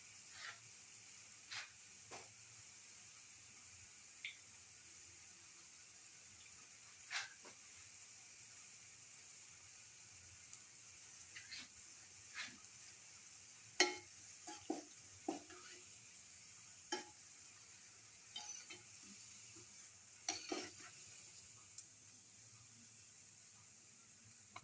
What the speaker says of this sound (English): Keep on frying